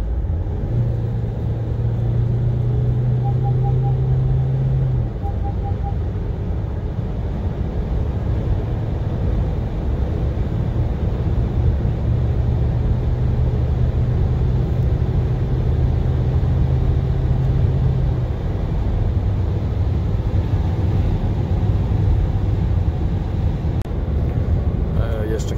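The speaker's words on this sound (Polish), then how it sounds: "A teraz zobaczcie, jak przyspiesza od 90." A Toyota Proace Verso VIP passenger van accelerates hard from 90 km/h, its engine drone and heavy road and wind rumble filling the cabin steadily and loudly throughout.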